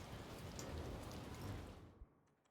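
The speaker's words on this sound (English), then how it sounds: "It's raining again." Steady rain from Warhammer 40K: Rogue Trader, a soft dense patter that fades out near the end, faint and heard alone without talk.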